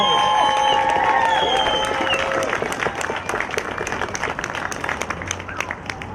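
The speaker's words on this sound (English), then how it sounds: "big round of applause for each and one of all of you and for all the organizers here today" A rally crowd breaks into loud, dense applause with scattered cheers and whoops, sustained for several seconds before gradually thinning out.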